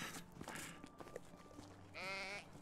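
A lamb bleats in the farming game Medieval Dynasty, one wavering bleat rising clearly near the end over a low bed of game ambience and scattered background noise.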